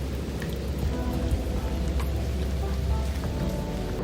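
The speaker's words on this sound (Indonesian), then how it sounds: "itu sambil kena hujan juga" Steady rain falls outdoors during wet weather, a continuous dense patter with low rumble holding at an even, fairly loud level throughout, with no clear voices.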